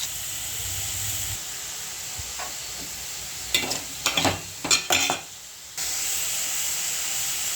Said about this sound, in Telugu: చికెన్ ఒక పక్క వేపుకోవాలి.